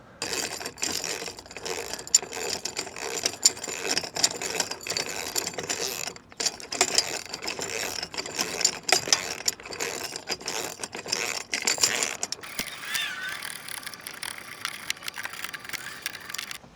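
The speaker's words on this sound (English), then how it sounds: "I've gone about as far as I can with the socket wrench" A socket wrench clicks and ratchets in quick, uneven bursts while tightening a DIY kayak trailer rod tube outdoors, a close, busy metallic pawl chatter that continues for most of the span before a brief quieter stretch at the end.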